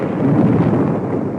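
A nuclear explosion blast: a continuous, loud, deep low rumble that roars steadily throughout with no speech.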